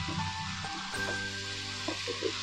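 Potatoes being stirred in a pan sizzle and fry steadily at close range, with soft scraping and clinking of the spoon against the metal through the short passage.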